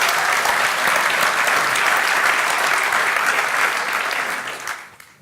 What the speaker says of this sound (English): I'd like to give a warm applause for Erwin